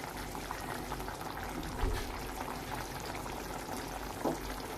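Pigeon curry simmers in a pan with a faint, steady bubbling and sizzle throughout, with no voices over it.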